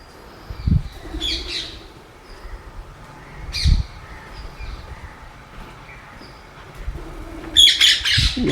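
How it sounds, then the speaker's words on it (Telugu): Rose-ringed parakeets give a few loud, harsh squawks in bursts, with quieter outdoor background noise between the calls. "రామచిలుకలు"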